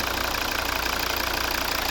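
A 2012 Volvo V60 R-Design with the 2.0 D3 diesel and automatic transmission idles steadily nearby, a constant low drone with faint diesel clatter and no talking.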